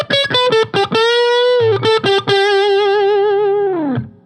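Electric guitar through a TC Electronic Mojo Mojo overdrive pedal with bass pushed high, drive backed off and treble trimmed, playing a few quick picked notes and then a long sustained note that slides down before fading, loud, with no other sound.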